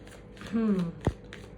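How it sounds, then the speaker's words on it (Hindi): Tarot cards shuffled by hand, a short riffling flutter followed by a sharp tap as the deck is squared, close and fairly quiet, with faint voice-like tones. "तो अगर आपको शफलिंग नहीं देखनी तो आप स्किप कर सकते हैं"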